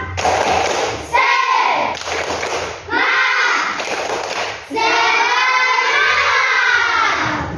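A classroom of students does a rhythmic spirit clap in unison. Bursts of sharp group claps alternate with loud chanted voices in three short rounds, close and lively.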